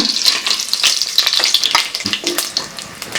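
Fennel seeds and other spices dropped into hot ghee crackle and sizzle in a busy, close run of sharp pops and hiss, with no voices.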